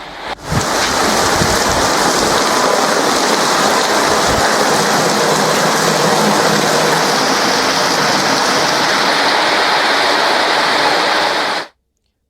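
Heavy rain pours steadily in the Boothalur area of Thanjavur district, a dense, loud, unbroken wash of hiss that runs without pause for the whole stretch before cutting off abruptly.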